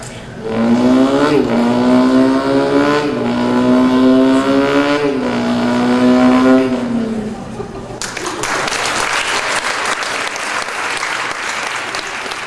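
A person vocally imitates a Ford Escort rally car engine, a loud revving buzz rising and falling in pitch for about seven seconds, followed by a burst of audience applause.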